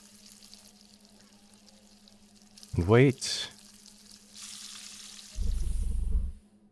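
An egg omelette fries in a pan in the cooking game Arctic Eggs. After a brief spoken phrase and a clattering scrape, a loud, close sizzle bursts out for about a second and then cuts off.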